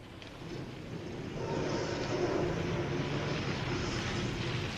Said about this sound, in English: Let me get the other plane.